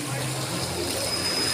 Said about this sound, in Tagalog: Lakas yung alon guys